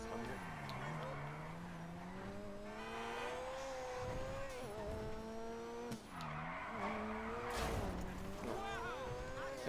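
A car drifts in a racing video game, its tires squealing in long, wavering tones over a droning engine that rises and falls across the run, with a voice talking over it at times.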